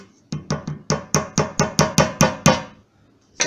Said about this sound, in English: To open this up, I think we can hammer it over the top.